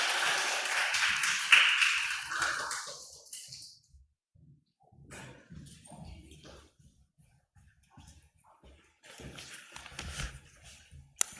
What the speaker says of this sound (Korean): 우리 도종원 목사님 함께 큰 박수로 환영하며 모시도록 하겠습니다.